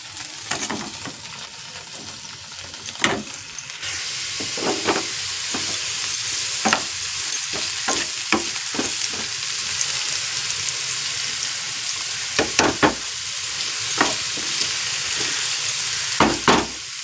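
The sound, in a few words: potatoes frying in a pan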